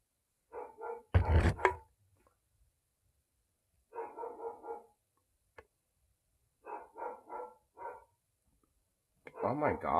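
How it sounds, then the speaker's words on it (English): A husky barks at night in clustered bursts, several sharp close barks spread across the span with quiet gaps between them, and a person's loud voice is heard near the start. "I knew he was gonna start barking off."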